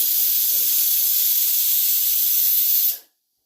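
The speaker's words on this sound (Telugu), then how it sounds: "గుగ్గులు అయితే ఉడుకుతున్నాయి" Steam hissing loudly and steadily from chickpeas boiling in a pot, a close, continuous broadband hiss with faint low voices beneath, cutting off abruptly at the end.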